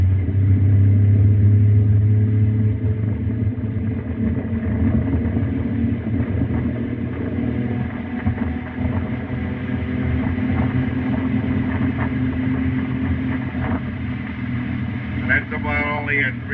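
The quiet motor of a Seneca Pacific power dory runs steadily on the water, a continuous low drone with a lower surge at the start, wind noise, and brief speech near the end.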